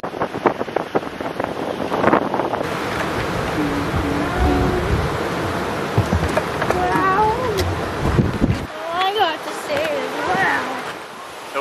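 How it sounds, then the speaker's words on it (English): Strong wind in Denali National Park buffets the microphone with a loud, continuous roaring rumble, while people talk over it throughout. "Wind is cooking. It is absolutely cooking down here."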